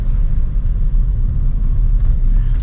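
A car drives along a rural road past rice fields in Nan, Thailand, with a steady, loud, close low engine and road rumble throughout and no talking.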